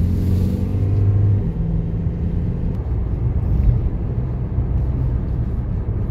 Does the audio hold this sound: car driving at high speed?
yes